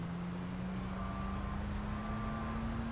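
A car engine in GTA V drones steadily throughout, with a sustained hum that rises slowly in pitch as the vehicle accelerates, loud and continuous with no talk over it.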